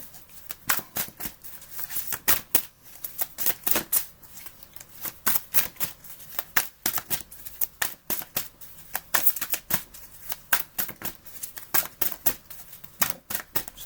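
Tarot cards being shuffled up close, a steady stream of crisp riffling snaps and flutters that repeat in quick bursts throughout, with no voices.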